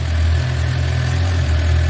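A steady, loud Suzuki motorcycle engine running close by after starting on the starter motor, holding an even low rumble throughout with no voices.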